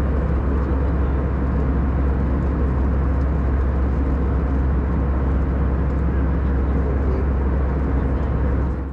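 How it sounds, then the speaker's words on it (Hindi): Steady airplane cabin noise during a flight to Skardu, a loud, unbroken low roar and rush of engines and air that holds constant throughout with no voices. "जहाज़ बादलों के नहायत दिलकश पैचेज में से गुज़र रहा है।"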